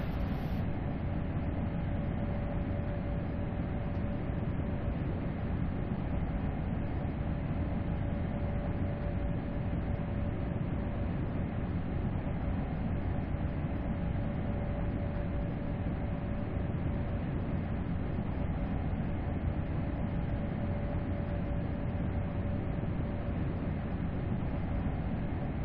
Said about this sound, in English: Stunning train, absolutely beautiful train is the ice.